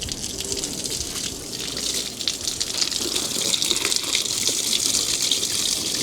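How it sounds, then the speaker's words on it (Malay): Water gushes and splashes steadily in a water washed-away test, a continuous broadband pour heard close and loud for the whole stretch, without talk. "Okey, kenakan air."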